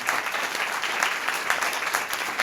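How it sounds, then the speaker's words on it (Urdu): A church congregation at a Christmas gathering claps loudly and steadily, a dense wash of hands with slightly pulsing rhythm filling the space throughout. "یسوع مسیح کے لیے زوردار تالیاں"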